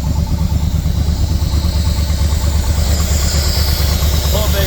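A 1968 Buick Wildcat engine, revived after sitting 45 years, runs at a steady idle with a rapid, even ticking clatter throughout, loud and close, with no pauses.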